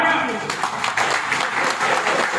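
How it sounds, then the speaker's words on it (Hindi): Crowd applause at a Bharatiya Kamera Varg Party political rally, a dense, steady wash of clapping with shouting voices mixed in throughout. "एक बार इस साथ के लिए जोरदार तालियां।"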